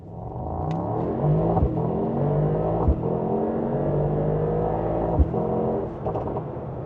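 A Mercedes-AMG GT 63 pulls away and accelerates steadily, its engine note rising through the gears under a smooth, continuous drone heard from inside the cabin, with a couple of faint thumps.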